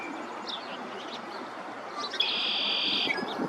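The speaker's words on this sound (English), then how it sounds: "you might have recognized the call of the red-winged blackbirds" A red-winged blackbird calls in a spring wetland in Edmonton, Alberta, a faint distant chirp or two early, then a clearer buzzy trill lasting about a second over soft outdoor background noise.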